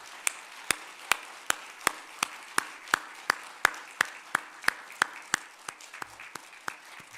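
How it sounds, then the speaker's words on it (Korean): A church congregation claps in unison during a Korean Advent service, about twenty sharp, evenly spaced claps in a brisk steady rhythm, fairly distant, with no talk over them. "우리 하나님께 영광의 박수를 올려드리겠습니다."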